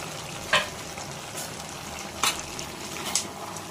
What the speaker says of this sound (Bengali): এবার এটাকে ভালো করে নেড়ে দেবো।